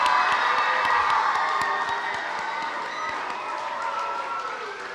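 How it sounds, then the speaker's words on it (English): Students applauding at a school Paint The Plow art event, a sustained crowd of clapping and cheering young voices with sharp claps scattered through the steady noise. "can we give a big round of applause for everyone that helped put this together?"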